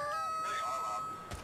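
Video-game chickens in ALT-F4 let out a loud, shrill, drawn-out screech that wavers and falls away, followed by a brief low thump.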